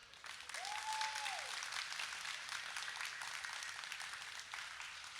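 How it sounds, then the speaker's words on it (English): An audience at a live osu! developer talk at the COE2022 convention gives a round of applause, a steady dense wash of clapping that stays fairly faint and distant throughout, with no voices over it. "Can we also get a round of applause for them?"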